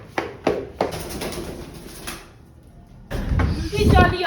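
Soft coos of a wild pigeon and a few knocks come through early, then louder rustling and movement noise take over toward the end.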